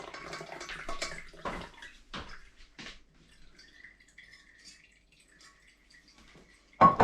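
Dandelion flower liquid poured through a sieve, a short splashing and trickling pour at the start that fades to faint drips, then a sudden louder splash at the end.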